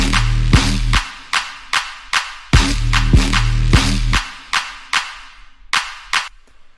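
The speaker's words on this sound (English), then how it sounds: "So with drums and the build-up stuff, it sounds like this." An electronic build-up with drums and a bass synth preset thumps in a steady rhythm, each sharp hit trailing off, the low bass dropping out as the hits thin toward the end.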